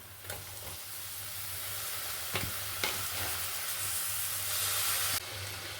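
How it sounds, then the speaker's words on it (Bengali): Boiled banana flower dropped into a pan of hot spices, giving a loud steady sizzle and hiss with a few sharp stirring knocks, no talking. "এবার দিয়ে দেবো সেদ্ধ করা মোচা"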